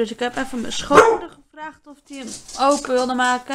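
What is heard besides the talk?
dog barking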